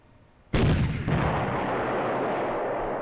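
A tank gun fires in the WinSPMBT wargame, Greece against Turkey, hitting the side of an enemy turret: one sudden loud blast with a sharp onset, then a long, dense rumbling roar that barely fades, with no voices.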